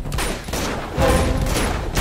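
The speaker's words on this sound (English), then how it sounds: "Big explosion!" Explosion and gunfire in the video game Uncharted 2, rapid bursts of shots rattling over a rumbling blast, with a heavier boom surging about halfway through, loud and close.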